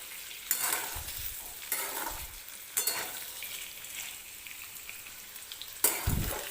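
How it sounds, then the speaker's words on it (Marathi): Paneer frying in hot oil in a home kitchen pan, a steady crackling sizzle broken by several louder scraping stirs, close and without talk. "तर 1-2 ते 3 मिनिटं फक्त मी हे पनीर फ्राय करून घेतलेलं आहे."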